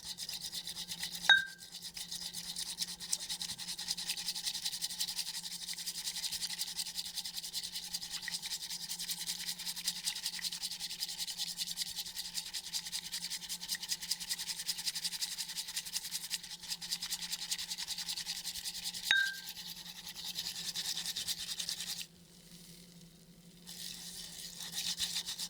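Matcha tea whisked to a froth in an ASMR cafe setting makes a close, steady, fast scratchy brushing that runs without a break for most of the clip, with a couple of light taps and a short pause near the end.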